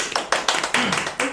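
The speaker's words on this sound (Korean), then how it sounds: "박수." A small studio audience claps for newlywed guests on a recorded broadcast, a short burst of a few distinct, fairly close hand claps, with a voice briefly heard.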